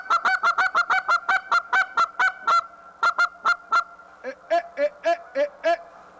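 Goose call imitating two different goose sounds, a rapid run of sharp honks followed by a second series of lower, more spaced honks, loud and close with no talking.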